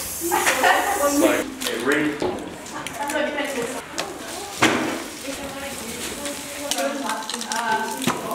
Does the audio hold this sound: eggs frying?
yes